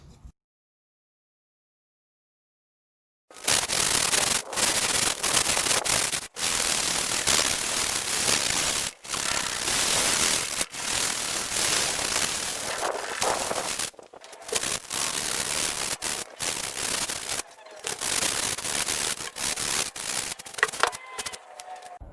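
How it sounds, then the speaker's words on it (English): Steady, loud scratchy rasping of 80 grit sandpaper worked over cracked wooden furniture in long strokes, with brief pauses between passes, after a short silent start. "Now I'm gonna sand this down with 80 grit sandpaper just to smooth out the surface"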